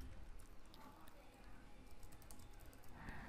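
Computer keyboard keys clack in a quick, irregular stream of light taps while random text is entered into a spreadsheet, close and moderately quiet, with faint background voice.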